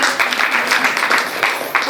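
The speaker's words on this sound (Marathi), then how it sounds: "टाळ्या येऊ देत थोड्या" A women's Sankranti gathering claps briefly, a scattered burst of hands from a modest group nearby, with a voice talking over part of it.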